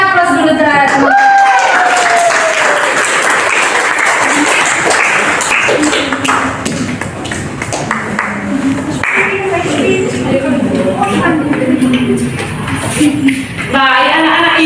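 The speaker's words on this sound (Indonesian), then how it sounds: "berikan aplaus dulu terhadap teman-teman" A class of students gives a round of applause for classmates in a classroom, steady clapping mixed with crowd noise and voices talking throughout.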